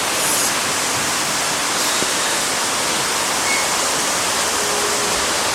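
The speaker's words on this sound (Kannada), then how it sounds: "ಇಲ್ಲಿ ಜೋರು ಮಳೆ ಬರ್ತದೆ" Heavy rain pours down at around five in the evening, making a loud, dense, unbroken roar of falling water from start to finish.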